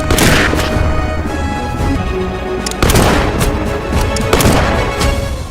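Loud, rapid gunfire cracks over a dense roar of battle noise, with heavier blasts breaking through every few seconds, as in a battle scene with German machine guns.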